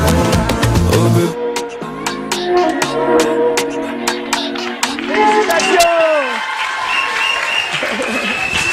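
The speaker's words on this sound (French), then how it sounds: "On les applaudit encore une fois, s'il vous plaît." A live TV show audience in Senegal breaks into loud, sustained applause and clapping that carries on through the whole stretch, with music and a host's voice over it.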